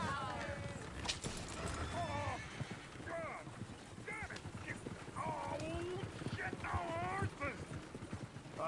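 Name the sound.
horse hooves and neighing in video game Red Dead Redemption 2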